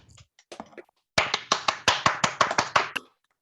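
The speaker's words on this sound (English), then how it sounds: "give her a round of applause" Clapping from an online audience: a few scattered taps, then about ten distinct, evenly spaced claps close to a microphone, crisp and moderately loud before stopping.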